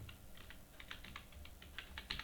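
Rapid keystrokes on a computer keyboard as an email address is entered, an irregular run of close, crisp clicks over a low steady room hum, with no one speaking.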